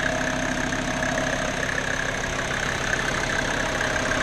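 A Mercedes G-Class 250GD pickup with its original turbo diesel engine, fitted with a bigger turbo kit, idles steadily at close range, giving a continuous even rumble with no voices.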